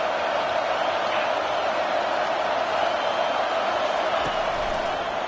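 A football stadium crowd cheers in a steady, dense roar that holds at full strength without a break, broad and distant-sounding.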